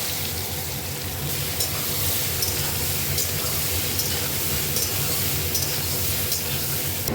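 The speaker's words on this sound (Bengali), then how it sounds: "তেলে আমি সয়াবিনগুলো ভেজে নেব" Soybean chunks fry in hot oil in a kitchen pan, a dense, continuous sizzle that stays loud and close throughout with no talking over it.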